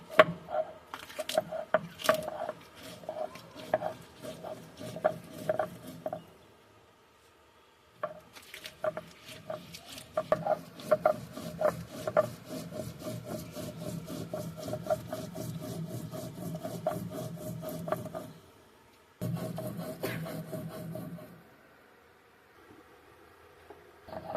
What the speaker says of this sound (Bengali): এবার আমরা লঙ্কাটা বেটে নেব